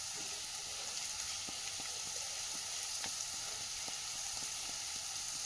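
Mushrooms frying in a pan for butter garlic mushroom give a steady close sizzle, with occasional faint clicks of stirring and no talking.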